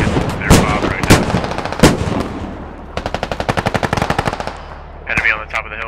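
Gunfire in the military shooter game Squad during a 40v40 US Army invasion of Afghanistan: several loud single shots, then a rapid sustained automatic burst and another short volley near the end, with faint voices underneath.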